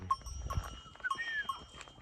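Sheep walking along on a farm at dusk, faint bleats and light clinks with soft movement noises, fairly distant and quiet, no talking.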